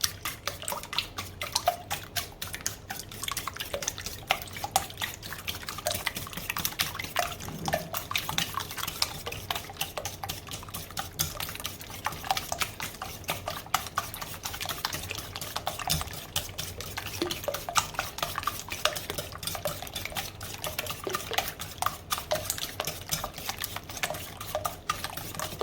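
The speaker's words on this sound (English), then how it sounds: "we're going to beat the eggs up real good" Eggs are beaten hard in a bowl without a whisk for bread pudding, giving a rapid, continuous clatter of tapping and sloshing, close but quiet and steady throughout, with no voices.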